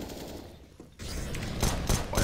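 Gunfire rattles in a Counter-Strike match on the map Cache, with dense bursts of shots loud in the foreground and some firing coming through a smoke grenade.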